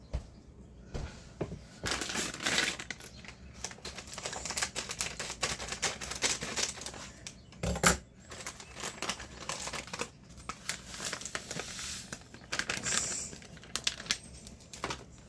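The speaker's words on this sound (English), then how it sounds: "Then I'm going to cut this open." A food package being cut open in a home kitchen while preparing Easter dinner, a run of close, crisp crinkling and snipping rustles with a few sharper bursts, no voices.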